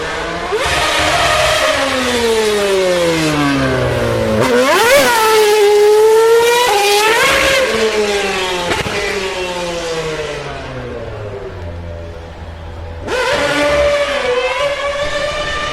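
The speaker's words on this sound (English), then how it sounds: "we heard the sound of an F1 car" A Mercedes Formula 1 car driving up a hill climb course, its engine screaming through repeated revs and gear changes, rising and falling in pitch, loud and close, with a short lull before it roars again.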